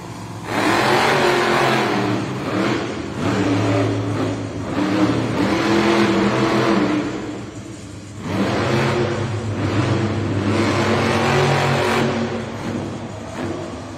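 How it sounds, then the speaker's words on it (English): A Monster Jam monster truck engine revs hard at the race start in a stadium, loud and close, with long roaring bursts that dip around the middle before surging again to full volume. "That truck is fired up."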